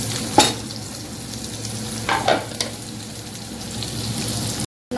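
Chopped onion with green chili and mustard seeds sizzling in a pan, a steady frying hiss with a few scraping stirs, no talk.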